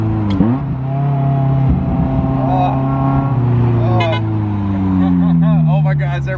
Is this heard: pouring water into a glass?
no